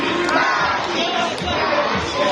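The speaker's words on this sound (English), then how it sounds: "Come on boys, let me hear your cheer." A crowd of boys chanting and cheering together at a family day event at Manila Ocean Park, loud and continuous with overlapping voices throughout.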